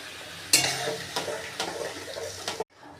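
Prawn malai curry with milk being stirred in a pan, with a soft simmering sizzle and several distinct scrapes and clinks of a spoon against the pan at irregular intervals.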